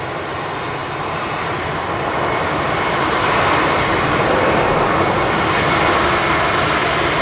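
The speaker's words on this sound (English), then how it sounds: "That loud sound on the A320 from Zagreb." An Airbus A320 jet from Zagreb at Manchester Airport, its engines producing a loud, sustained roar that holds steady and swells slightly over several seconds with no voices.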